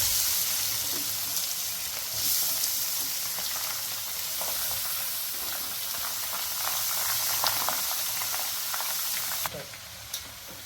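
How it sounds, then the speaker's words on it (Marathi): Grated carrot fries in ghee in a pan, a continuous close sizzle and crackle with faint scraping, steady throughout and ending with a soft clatter. "तर आपण जे तूप टाकलेलं होतं त्या तुपामध्येच आपलं जे हे किसलेलं गाजर आहे ते व्यवस्थित फ्राय करून घ्यायचं आहे 10 मिनिटासाठी"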